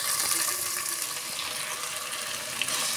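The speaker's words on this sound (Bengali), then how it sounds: "এখন আমি এর মধ্যে একটু পানি দিয়ে দিব।" Water pours in a steady gushing stream into a cooking pan holding melted spices for a chicken curry, a close continuous splash lasting a few seconds with no talk.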